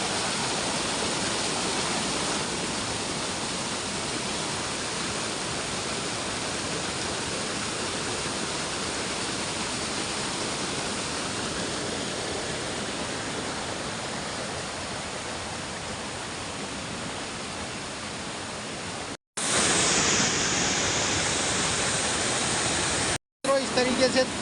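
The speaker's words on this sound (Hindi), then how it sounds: "इसके नीचे एक फॉल बनता है, और जो नीचे से देखने में बहुत सुंदर है।" Steady roar of a waterfall below a mountain village in Uttarakhand, a dense, constant rush of falling water close by that fills the whole clip, broken by two brief dropouts near the end.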